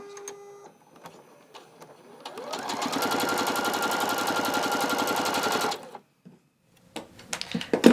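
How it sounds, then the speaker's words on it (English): Sewing machine stitching quilt block pieces with a scant quarter-inch seam, a fast steady mechanical whirr for about three seconds, preceded and followed by quieter handling noises. "you're going to just sew these to those little 4 patches with a scant 1/4 inch"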